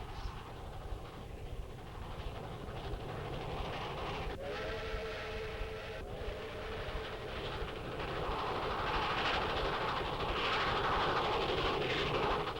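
A train rumbles along the rails near Holtville, Alabama, a steady low clatter that swells louder toward the end, with a brief whistle blast sounding in the middle.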